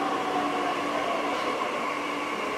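A Delhi Metro Blue Line train running from Noida to Dwarka gives a steady interior rumble and hum with a constant whine, heard continuously and fairly loud with no talk.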